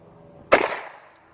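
A single sharp crack from an old cap-loaded toy gun fired once, close and loud, after a moment of near silence, with a short decaying tail.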